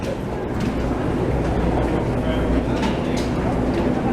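A Vienna U-Bahn U4 train runs along a line just below the surface, a continuous loud rolling rumble and rattle heard from inside the car, with voices faintly mixed in.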